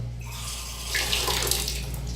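Water gushing from a shower hose into a bucket in an apartment bathroom in a Philippine village in Manila, a close, steady rushing stream that swells slightly partway through, with no talking.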